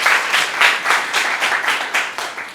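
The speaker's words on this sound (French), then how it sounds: "Est-ce que vous pouvez acclamer encore pour moi?" An audience at an art fabrication workshop in Benin claps together in a rhythmic, evenly pulsing applause, close and continuous throughout.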